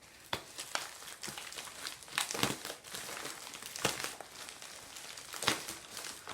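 A plastic bag of Lego pieces being handled and cut open, giving close, crisp crinkling with sharp bursts of rustle at irregular intervals and no speech.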